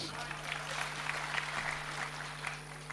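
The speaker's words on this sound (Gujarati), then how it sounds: "તાળીઓ થી વધાવો." An audience at a religious and humour gathering at a Gayatri ashram claps in a steady, continuous round of applause that sounds somewhat distant and moderately loud.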